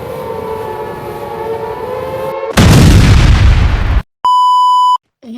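A car explodes in the Free Fire video game, with a sudden loud burst of noise after a sustained siren-like tone, followed by a clean electronic beep.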